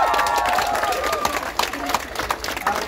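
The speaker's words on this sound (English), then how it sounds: "Give yourselves a clap." Students at an outdoor climate strike rally clap and cheer, a lively crowd applause with whoops and shouts mixed in, fairly loud and close.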